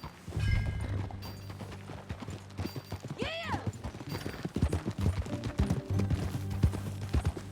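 Hooves clip-clop in a steady rhythm as a horse moves along in a Red Dead Redemption video game, with a brief whinny partway through and a voice calling out.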